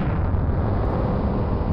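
Rocket engine ignition on a space launch: a dense, sustained roaring rumble, loud and unbroken throughout with no voices.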